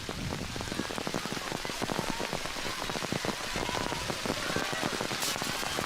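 Steady rain falls outdoors during an ultimate frisbee game, a dense, even patter of drops hitting surfaces that continues throughout without talk.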